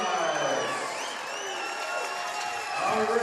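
Crowd at a Franklin Bulls basketball game applauding and cheering the young bench players, a dense steady wash of clapping and murmuring across the arena with a commentator talking over it.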